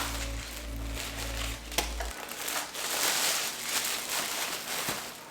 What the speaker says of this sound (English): the light itself is in a plastic bag as well